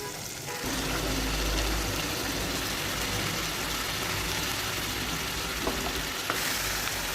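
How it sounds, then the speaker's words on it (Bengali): Chicken pieces sizzling in a pan with oil and whole spices (cinnamon, cloves, cardamom and bay leaf), a continuous close crackle and hiss with occasional stirring clicks and no speech. "মুরগির মাংসগুলো কষিয়ে নিচ্ছি।"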